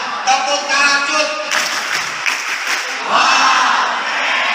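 A group at an Islamic boarding school training session performs a rhythmic clapping chant with excited cheering, voices and hand claps mixed loudly together for several seconds.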